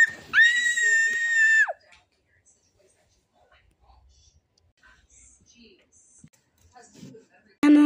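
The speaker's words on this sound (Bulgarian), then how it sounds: "Защо така крещиш?" A girl lets out a loud, high-pitched excited scream lasting over a second, then near silence with faint rustles and a brief sharp noise at the very end.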